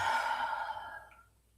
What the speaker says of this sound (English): And exhale through your mouth.